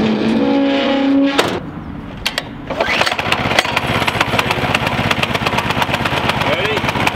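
A homemade wooden go kart's small engine is pulled to a start after a mechanical whine, then settles into a loud, rapid idle chug close by, with voices talking over it.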